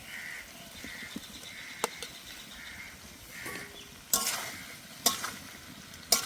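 Fried potatoes and jackfruit stirred into a vegetarian jackfruit curry in a pan, soft sizzling under occasional sharp clinks and scrapes of a spatula, with a bird calling faintly in the background.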